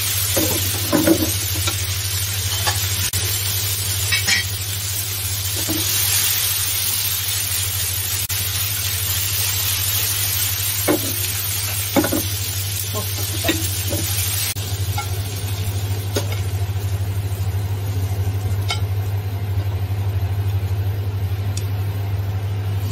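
Oysters pan-frying in a home kitchen give a steady, close sizzle over a low constant hum, with a few scrapes and taps from stirring scattered throughout.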